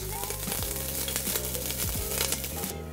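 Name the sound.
garlic sautéing in olive oil with tomato paste and couscous spices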